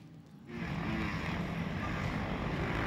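Steady whining buzz of an FPV drone flying over a junior big-wheel desert race prologue, swelling in after a quiet start and holding loud and continuous, with broad rushing noise like wind.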